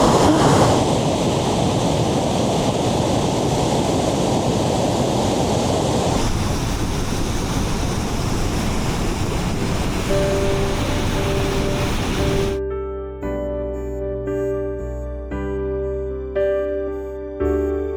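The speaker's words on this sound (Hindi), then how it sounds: "पानी का शोर आप सुन सकते हैं, ये देखें" The Kundal Shahi waterfall in Kashmir gives a loud, continuous roar of fast-falling water, a broad rushing wash that dominates before giving way to softer music.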